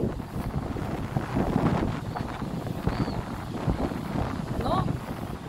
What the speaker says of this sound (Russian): ветер становится сильнее